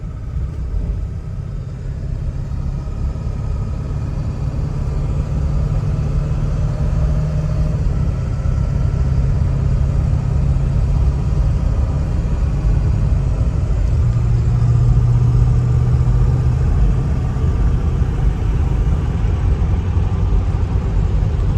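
A 2002 Ford Excursion Limited with the 7.3L Powerstroke diesel and 4WD runs steadily, a loud, close, continuous low rumble that builds slightly as it goes, with no one talking.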